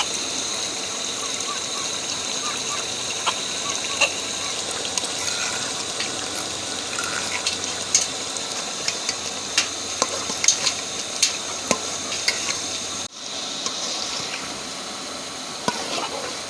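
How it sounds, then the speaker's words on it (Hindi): Ground spinach for aloo palak going into a hot pan, with a steady sizzling and frying hiss and scattered stirring clicks throughout, close and fairly loud, briefly dipping near the end. "अब हम इसमें पिसी हुई पालक डालेंगे।"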